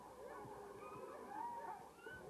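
Sled dogs lined up before a race, howling together in a wavering chorus of overlapping long cries, faint and somewhat distant, continuous for the whole moment.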